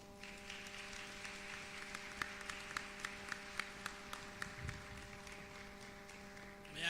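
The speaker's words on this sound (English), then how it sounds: "This round of applause is lacking a bit of oomph." Thin, scattered applause from an audience at a Johannesburg youth construction summit: a handful of separate claps stand out faintly over a steady electrical hum, with no real swell.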